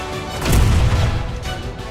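A heavy cannon blast from a Final Fantasy 7 Rebirth trailer: one loud, booming low impact that swells quickly and then rumbles away over a second or so, with nothing else audible.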